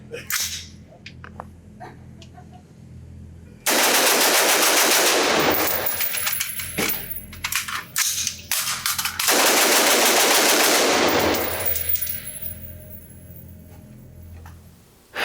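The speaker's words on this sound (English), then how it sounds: "I'm going to set up the target, put another magazine through this, and I'm going to try to do a quick magazine change as fast as I possibly can" Adams Arms AR-15 piston-driven rifle fires two long, loud bursts of rapid shots at an outdoor range, separated by a brief pause during a quick magazine change, with quieter handling noise before and after.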